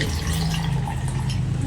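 Filtered water splashes steadily into a container while preparing an herbal juice drink meant to stabilise cholesterol, a continuous close, fairly loud pour with dripping and trickling texture and no voices.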